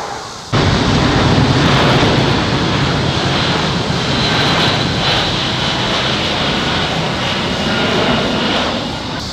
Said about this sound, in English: We're really close, I guess relatively close, to the airport.